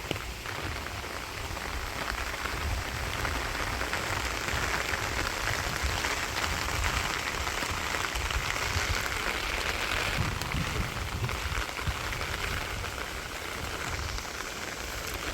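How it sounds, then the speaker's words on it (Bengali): Steady rain pours over a village, drumming evenly and densely on nearby surfaces throughout with no break or talk. "অনেক সুন্দর বৃষ্টি আইছিল"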